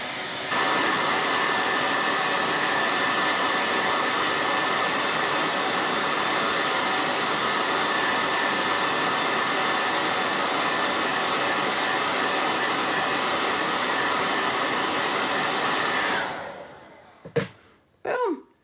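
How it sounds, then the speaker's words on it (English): A blow dryer set to its highest heat roars steadily and loudly for about sixteen seconds while drying leather earrings, then switches off and winds down, followed by a couple of faint handling knocks. "And take my blow dryer on the highest heat. And I'm just going to blow dry them."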